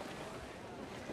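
Wind and waves at sea in the video game Assassin's Creed IV Black Flag make a steady, loud broadband rush of gusting air and surf with no break.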